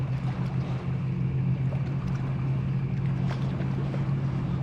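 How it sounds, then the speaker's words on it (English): Waves slapping against a fishing boat on Lake Hume, stirred up by a passing jet ski or speedboat, with a steady low hull rumble and wind noise running throughout the whole stretch. "Here come some waves."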